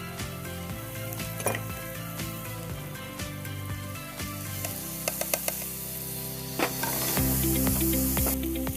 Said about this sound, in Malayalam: ഞാൻ ബട്ടറിലാണ് ഈ പനീർ സോട്ട് ചെയ്തെടുക്കുന്നത്